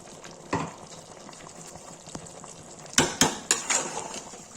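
A spoon stirs tomatoes into chicken curry in a pan, with soft scraping and a few sharp clinks of metal against the pan, faint sizzling beneath.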